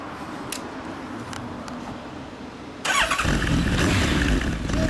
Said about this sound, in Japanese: あとエンジン音聞かせてください